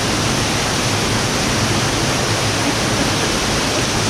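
Swift water rushes at Kanarra Falls in Kanarraville, Utah, a loud, constant roaring hiss that fills the whole short stretch with no talk over it.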